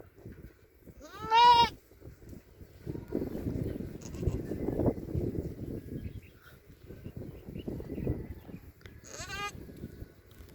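A goat giving birth bleats twice, a strained, wavering cry near the start and another near the end, loud and close, with rustling and muffled handling noise in between.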